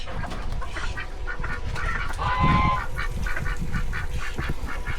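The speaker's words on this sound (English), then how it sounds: "They got really high-pitched quacks." A flock of call ducks quacks continuously, close and loud, with shrill, high-pitched, rapid calls overlapping one another.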